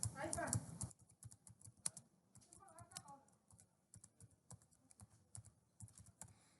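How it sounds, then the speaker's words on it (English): Short bursts of computer keyboard typing while entering a name in construction takeoff software, quiet clicky taps scattered across the clip beneath a man's ongoing speech. "I type in the name"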